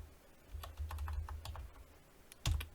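Close, quiet typing on a computer keyboard while entering a command on a Foundry VTT dedicated server, a quick run of soft key taps followed by a firm keystroke near the end.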